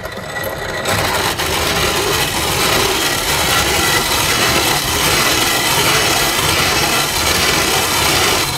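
Dried corn is hand ground into cornmeal for campfire cornbread, giving a close, continuous gritty rasping and scraping that runs steadily and fairly loud from about a second in until the end.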